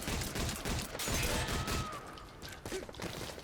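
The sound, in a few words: submachine gun fire in video game Metal Gear Solid Online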